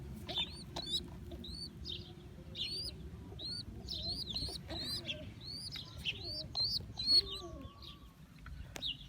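Pigeons in a flying coop coo softly among scattered bright chirps, all faint and slightly distant, in short irregular bursts over a low background murmur.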